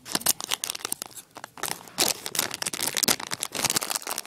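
A Treasure X trash pack being torn open: sharp, irregular rips and crinkly plastic crunches in quick close bursts, with brief pauses between them.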